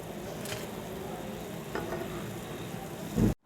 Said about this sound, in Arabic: كده خلاص هنبدأ نحمر الوش التاني زي ما احنا شايفينها، هي طرية تنزل في الزيت